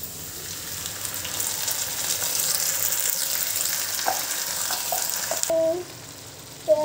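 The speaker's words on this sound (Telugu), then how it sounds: "ఈ పచ్చివాసన పోయేంత వరకు బాగా ఫ్రై చేసుకోవాలి." Sliced onions and puree masala frying in a pan for a prawn fry, a loud, continuous close sizzle with stirring, then a short pause and a few clinks at the end.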